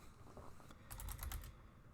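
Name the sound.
typing a command into a terminal on a computer keyboard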